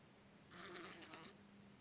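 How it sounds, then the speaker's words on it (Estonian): Housefly buzzing against a window indoors, a single close, fairly loud burst of fluttering buzz lasting under a second in an otherwise quiet room. "Ma kuulen kärbse suminat. Mul üks kärbes on siin akna peal."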